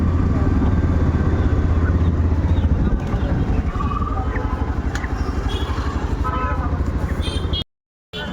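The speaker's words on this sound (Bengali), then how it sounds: "আমি এখন বেরিয়ে পড়লাম বাইকে করে মেলায় যাওয়ার জন্য" Motorbike ride on the way to a fair, with a steady engine drone and road rumble running loudly throughout, briefly dropping out near the end.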